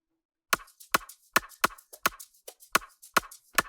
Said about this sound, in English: and without it, listen to the shaker.